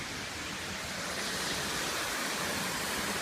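Waterfall rushing beside a rocky hiking trail, a steady broadband roar that stays constant and fairly loud throughout, with no voices over it.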